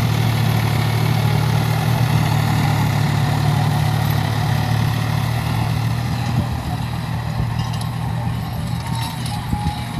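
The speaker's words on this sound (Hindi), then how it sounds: "फ्रेंड्स ट्रैक्टर है अपना न्यू हॉलैंड 47-10 2700 cc इंजन के साथ।" New Holland 4710 tractor with a 2700 cc, 47 hp engine drives a Raina rotary tiller in a field, a steady, loud, close diesel drone with low rumble and constant mechanical rattle for the whole stretch.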